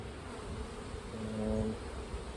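Quiet, continuous buzzing of many bees close by, a low droning hum that swells briefly in the middle.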